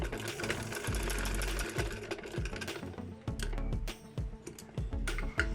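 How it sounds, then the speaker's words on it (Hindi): A sewing machine stitches a 2.5-inch-wide fabric strip for a baby frock. It runs in loud, rapid whirring bursts broken by short pauses and clicks as the stitching stops and restarts, with no talk. "तो इसको यहाँ से सिलाई लगाना शुरू करेंगे।"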